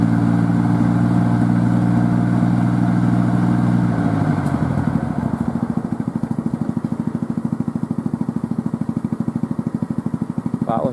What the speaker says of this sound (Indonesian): mesin mobil sudah nyala, mesin motor nyala semua